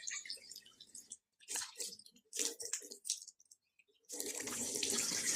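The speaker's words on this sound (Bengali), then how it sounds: "আমার ফেভারিট সিম্পলের ফেস ওয়াশ দিয়ে আবার মুখ ধুচ্ছি।" Water splashes and drips in fits and starts as a face is washed with face wash, then a tap runs in a steady close rush for the last second or so.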